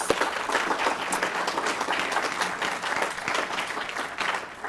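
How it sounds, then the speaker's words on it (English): Audience applause for the speakers at a Great Salt Lake issues forum session, a steady, dense wash of clapping from a large room that holds evenly throughout without fading. "So another round of applause for our speakers."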